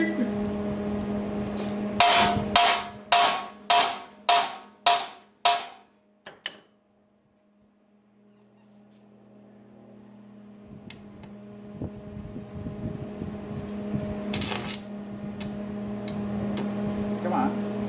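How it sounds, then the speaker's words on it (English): Arc welding on a utility trailer under restoration: a run of sharp, evenly spaced clanks at first, then a pause, then a steady crackling buzz of the arc that keeps going, close by, with a voice speaking at times. "That is welding."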